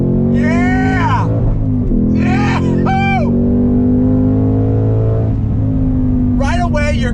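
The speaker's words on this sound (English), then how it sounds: "Right away, you're gonna get that wonderful V8 sound." A 2021 Ford Mustang Mach 1 V8 with a tweaked exhaust rumbles deeply and steadily from inside the car, its engine tone rising slightly at times while people talk over it.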